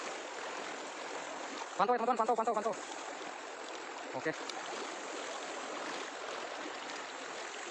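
A wide river flows with a steady, broad rushing wash that runs from start to finish, and someone speaks briefly over it.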